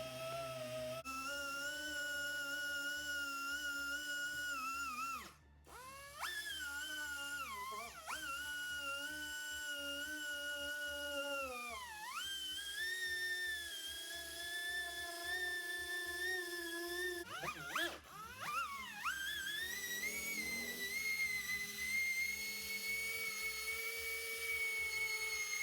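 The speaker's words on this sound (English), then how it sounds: "The Jescar also works well with my little pneumatic 2-inch polisher and the Buff Daddy 2-inch microfiber cutting pad." A small pneumatic 2-inch polisher fitted with a microfiber cutting pad and cutting compound, a high, steady whine close to the microphone whose pitch dips and rises as pressure changes, with brief drops when it is lifted.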